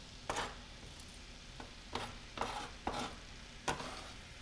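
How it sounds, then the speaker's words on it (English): Onions fry in peanut or avocado oil for Indonesian spicy fish, giving a faint, soft sizzle punctuated by several distinct spatula clacks against the pan, spaced irregularly. "I'm first going to fry some onions"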